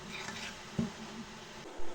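Soft, steady sizzle of patties frying in a pan, with a brief spoon tap and scrape against it partway through.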